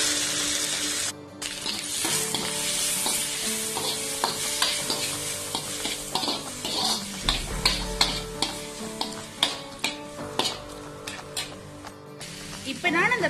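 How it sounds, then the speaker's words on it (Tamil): Tomatoes sizzle with browned onions in a frying pan while being stirred, a steady crackling fry with scraping stir strokes, and someone speaks over it. "இப்ப நான் தக்காளி பழத்தை சேர்த்துக் கொள்கிறேன்."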